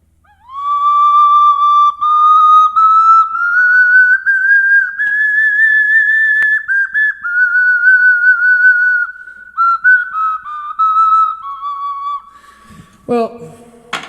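A long, sustained train whistle imitation, likely whistled or played live on a music show, holds one steady wavering tone for about twelve seconds with a slight rise and fall, loud and close, ending in a short clatter.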